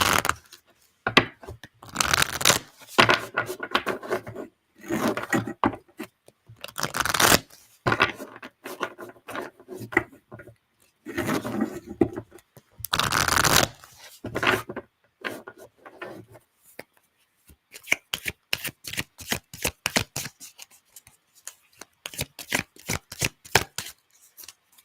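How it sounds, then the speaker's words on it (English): A deck of cards is shuffled during a tarot-style reading, giving bursts of rapid riffling and papery rubbing, with a fast run of crisp flutters near the end. The shuffling is close and alone. "Get my cards shuffled, and then I'm just going to start pulling away."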